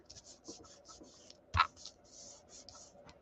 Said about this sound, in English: I'm going to go ahead and use my tape runner